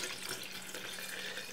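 Cold tap water runs steadily into a container for ginger bug lemonade, a constant bright hissing stream with no pauses.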